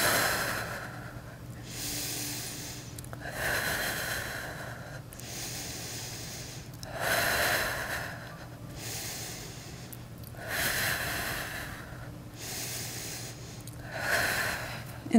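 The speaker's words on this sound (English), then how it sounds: "And you're gonna breathe here." Forceful rhythmic breaths while holding a yoga plank, about six loud, hissing exhale-inhale cycles repeating every two to three seconds, close and alone with no talking.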